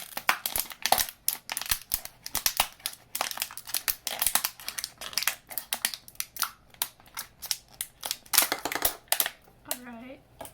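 Crisp crinkling snips and crunches as scissors cut into a plastic bottle cap to form a funnel, in a rapid irregular series at close range, quiet overall, with a short squeak near the end.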